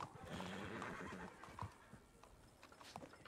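A horse in the western game RedM (Red Dead) gives a loud whinny, with hoof clip-clop and other game sounds running steadily underneath.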